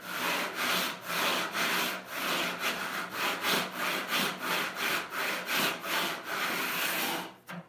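A hand saw resaws an 8-inch-wide board of walnut, its strokes rasping loud and close in a steady back-and-forth rhythm of about a dozen pulls before stopping.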